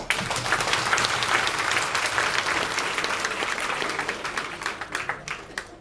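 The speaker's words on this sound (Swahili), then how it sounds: "Naomba tuongeze makofi kidogo." Audience at a political rally applauding, a dense sustained burst of clapping from a large crowd that gradually thins and breaks into scattered claps toward the end.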